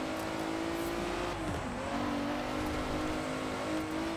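A car engine in Forza Horizon 4 revs and accelerates up through a corner, a steady close drone that dips briefly mid-way and then climbs again in pitch.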